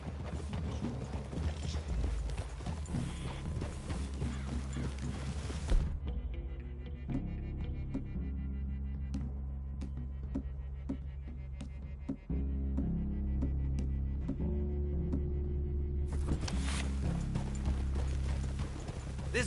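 Hooves clopping at a walking pace in Red Dead Redemption 2, over steady background music that drops and swells, with an occasional faint whinny; no speech.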